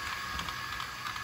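A 3-in-1 smart robot vacuum mopper sweeper running, a steady close mechanical whir with a high electronic whine and faint ticking of its moving parts, brief and constant.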